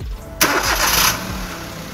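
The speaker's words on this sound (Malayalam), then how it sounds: "ഓക്കെ, നമുക്ക് വാഹനം സ്റ്റാർട്ട് ചെയ്യാം." A car engine cranks and catches, then settles into a loud, steady idle close by, with no talking.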